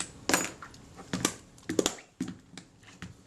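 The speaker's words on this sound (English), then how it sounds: "I'm going to tighten up that rewind while I'm here" Someone tightens the film rewind on a Kodak Retinette type 022 camera body, producing a quiet series of small dry clicks and brief scraping ticks spaced irregularly.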